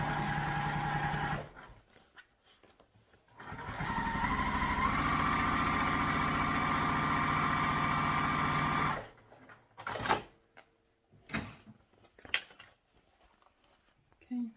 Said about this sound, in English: So I just top stitched it and it'll be fine in the seams later.